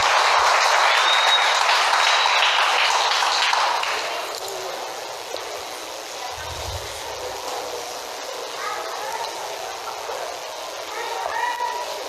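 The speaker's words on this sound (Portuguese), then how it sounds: "Dê um aplauso a Jesus mais uma vez." Church congregation applauding loudly for about four seconds, then the clapping thins and fades into softer scattered sounds and room noise.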